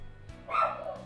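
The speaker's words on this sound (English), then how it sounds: "And I just realized I never muted with the dog barking." One short, muffled dog bark or yip sounds from a short distance, brief and moderately loud, with nothing else around it.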